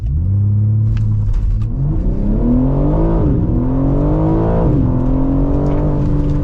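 A 2025 BMW M3 xDrive Competition launches hard under launch control in Sport Plus, its engine roaring loudly and rising through the revs, dipping briefly at gear changes, heard from inside the cabin.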